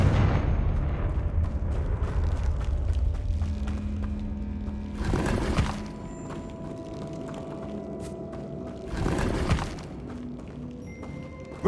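The Confringo blasting spell goes off in Hogwarts Legacy on PS5, two booming, explosive bursts landing several seconds apart over a low rumbling game ambience, with no talking.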